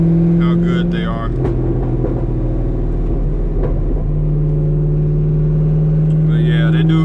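A C5 Corvette on cheap tires pulls hard, its engine droning and rising in pitch through the gears with a loud, steady in-cabin rumble, while a voice talks over it at times.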